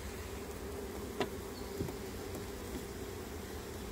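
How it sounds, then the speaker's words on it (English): Honey bees buzz in a steady, soft drone in front of their hive during a July hive inspection, with a few faint nearby thumps and no talking. "those bees are in front of the hive, so they can hopefully find their way back in"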